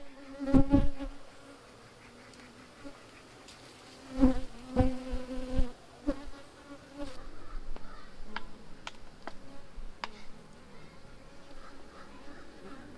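Honey bees hum in a constant low drone inside a hive, with sharp knocks and clattering handling noises of wooden hive boxes cutting through the buzzing.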